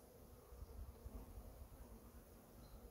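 A hornet buzzing near an open beehive, a faint steady insect drone over a low outdoor background with no voices.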